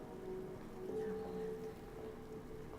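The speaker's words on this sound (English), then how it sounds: "A stroll in the rain." Steady, soft rain patters in the Silent Hill remake, a faint even wash with a low ambient drone beneath it and no voices.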